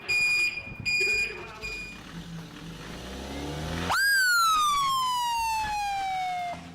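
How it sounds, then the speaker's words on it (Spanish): A loud, close warning siren at White Helmets rescue headquarters in Idlib province, Syria, rises sharply and then slowly falls in pitch, with a wavering electronic tone at the start. "Así suenan las sirenas en los cuarteles de los cascos blancos en la provincia de Idlib."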